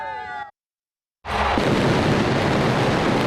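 Fireworks go off at the opening of WWE SmackDown in a packed arena. After a brief tonal sound and a moment of silence, a sudden loud, dense roar of bursts and crowd noise erupts and continues.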